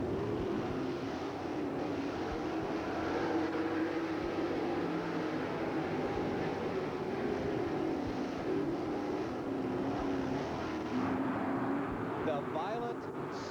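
Sprint cars racing at Manzanita Speedway in 1992, a steady distant engine drone throughout under continuous commentary.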